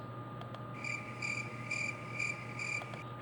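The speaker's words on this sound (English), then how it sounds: "The two sound effects I want, one is crickets." A crickets sound effect gives a rhythmic series of bright, pulsing chirps repeating in short bursts over a low, steady background hum.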